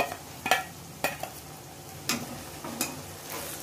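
Onions frying in a pan with garlic and ginger paste as a spoon stirs them, a steady quiet sizzle broken by a few sharp scrapes and clinks of the utensil against the pan.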